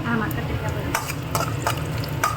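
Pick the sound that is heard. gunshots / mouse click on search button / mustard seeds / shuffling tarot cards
mustard seeds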